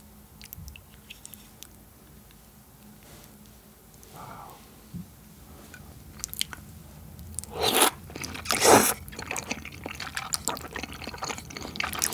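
Close, crisp chewing and crunching of the spiciest malatang in a mukbang, with wet slurps and bites that grow louder and more frequent toward the end, no talking.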